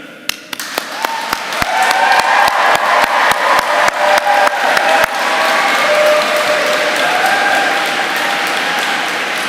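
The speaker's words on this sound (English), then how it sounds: "Will you please applaud them in return?" Graduates at a University of Kent graduation ceremony in Canterbury Cathedral applaud their supporters. A few separate claps open it, then loud, sustained applause rings in the reverberant space, with sharp individual claps standing out before it settles into a steady roar.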